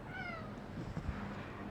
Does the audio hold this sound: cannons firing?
no